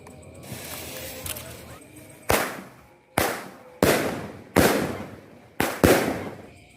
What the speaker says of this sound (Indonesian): kita nyalakan yang ini dulu, Purple Star Rocket